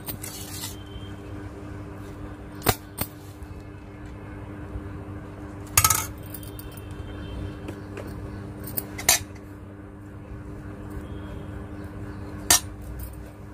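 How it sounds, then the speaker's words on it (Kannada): A spoon scrapes and clinks against a pot while cooked rice is mixed with a tempering for lemon rice, giving a few sharp, sparse metallic taps over quiet kitchen background. "ಈಗ ಇದನ್ನ ಅನ್ನಕ್ಕೆ ಹಾಕಿ ಕಲಸೋಣ"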